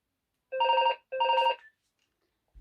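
A telephone rings twice in quick trilling bursts, each about half a second long, clear and close in an otherwise quiet room, with silence after the second ring.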